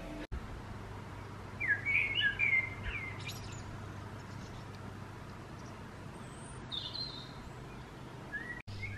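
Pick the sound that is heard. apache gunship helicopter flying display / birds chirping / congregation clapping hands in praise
birds chirping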